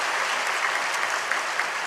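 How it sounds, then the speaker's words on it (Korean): Applause from a church congregation during a baptism and membership ceremony, a steady dense wash of many hands clapping at once that holds evenly throughout at moderate loudness, with no talking. "여러분 박수로 뜨겁게 이분들을 격려해 주시기 바랍니다."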